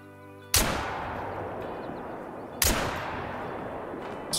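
Two loud, close shotgun blasts ring out about two seconds apart during a quail hunt in a Mississippi preserve, each with a sharp crack and a decaying outdoor echo, followed by a third report just beginning at the end.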